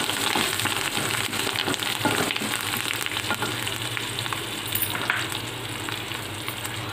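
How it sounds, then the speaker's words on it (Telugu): Asafoetida and curry leaves hit hot oil in a pan and sizzle loudly and continuously, a dense crackling fry close up with no voices. "కొద్దిగా ఇంగువ వేసుకుందాం. కరివేపాకు వేసుకుందాం."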